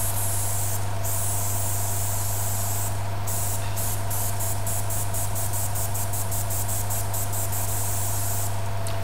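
An airbrush sprays conductive ink in a steady, close hiss over a constant low hum, with short bursts of stronger spraying and rapid on-off pulses toward the end.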